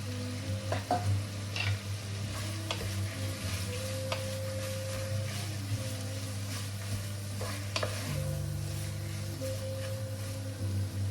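Onion frying in a pan for sausage and mash, with a constant close sizzle over a low steady hum and a few scattered taps and stirring sounds.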